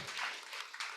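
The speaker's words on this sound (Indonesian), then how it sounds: "tepuk tangan buat istri saya ini ya" Audience applause at a Saturday stage show, a short burst of clapping from many hands, faint and a little distant, lasting about a second.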